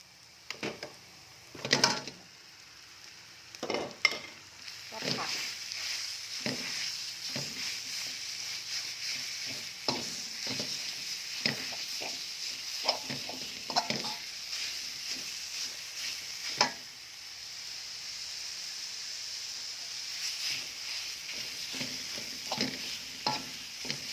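Pounded pork for lemongrass pork chili paste stirred in a sizzling pan, with steady frying hiss and repeated scraping knocks of a utensil throughout, close and moderately loud.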